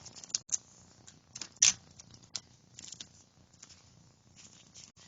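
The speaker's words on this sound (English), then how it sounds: "I don't want to lose too much of the ribbon, so I'm just going to trim it down" Scissors trimming a ribbon for a floral charm card, a few sharp, faint snips spaced out over a quiet background with light handling rustles.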